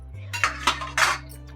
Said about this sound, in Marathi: ढवळून घेते आता. आणि कुकरचं झाकण लावून घेते.